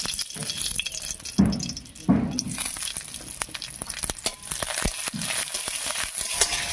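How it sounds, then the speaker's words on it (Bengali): Torn dried red chillies and panch phoron crackle in hot mustard oil before greens from a young gourd plant go in, with loud bursts of sizzle and scattered sharp pops and rattles. "তেলের মধ্যে দেবো দুটো শুকনো লঙ্কা"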